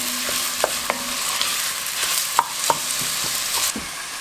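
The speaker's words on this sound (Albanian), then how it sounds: "Edhe fërgojmë qepën derisa të skuqet." Chopped onions frying in a pan for a chicken and vegetable stew, a steady close sizzle with a few sharp clicks and scrapes from stirring.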